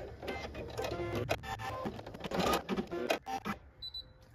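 An embroidery machine stitches a snap target on a school bus snap tab, giving a quick, busy run of mechanical clatter at close range before stopping, followed by a short electronic beep.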